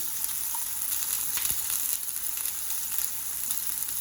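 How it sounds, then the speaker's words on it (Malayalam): Cumin seeds and chopped onion hit hot oil in a home kitchen pan, giving a steady close sizzle with a brief stirring scrape partway through, and no voices. "ചൂടായിട്ടുണ്ട്, അതിലോട്ട് നമുക്ക് ജീരകം ഇടാം. ഇതിലോട്ട് സവോള അരിഞ്ഞതിലേക്ക് ഇടാം."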